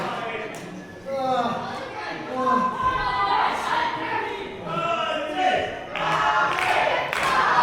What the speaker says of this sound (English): Just listen as the crowd are doing their best to spur Patty to his feet